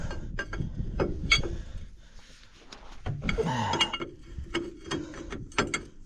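Metal ratcheting and clanking come from wrench work loosening a hose fitting on a combine, with irregular close clicks and rattles, a brief louder scrape partway through, and no talking.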